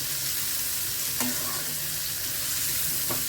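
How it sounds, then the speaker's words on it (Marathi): Food sautés in a pan with a steady, close sizzle, and a spoon or spatula occasionally scrapes and clinks as it is stirred. "अजून आपल्याला एक दोन मिनटं परतवायला पाहिजे परतून घेतली की सोपी जातात पटकन शिजतात"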